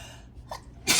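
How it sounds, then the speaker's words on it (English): Two sneezes in quick succession, close and fairly loud, with a short breath before them. "2 sneezes."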